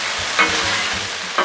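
Steak and corn tortillas sizzle on a Blackstone flat-top griddle with a loud, continuous hiss, broken by a couple of brief scraping sounds of food being slid across the surface.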